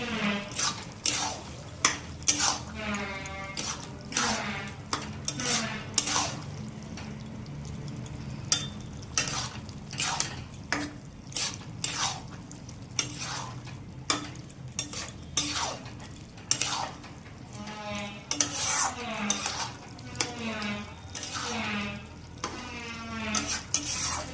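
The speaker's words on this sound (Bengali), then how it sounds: "এবার নেড়ে চেড়ে নেবো।" Spices with turmeric and sugar are stirred in a pan for fish-head curry with bottle gourd, giving steady rhythmic scraping and clinks of a utensil against the pan over a low sizzle, close and fairly loud, with no talking.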